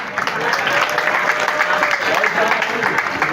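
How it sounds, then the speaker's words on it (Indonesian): An audience of students at a school gathering in Bengkayang, Indonesia, applauds in a dense, steady wash of clapping that lasts the whole stretch, with a few voices underneath. "Tepuk tangan."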